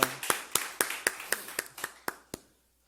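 Clapping during an online Sunday church worship service: about eleven sharp, evenly spaced claps in a steady rhythm, each ringing briefly in the room, then silence.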